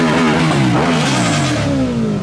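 A loud Audi car engine revs continuously at a motorcycle and car meet, the pitch climbing and dipping through a rising note, close by with no talk over it.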